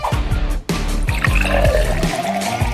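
Fanta pours into a glass filled with fruit and berries, a close, continuous fizzing gurgle with a brief pause, then steady bubbling and trickling as the liquid settles around the fruit.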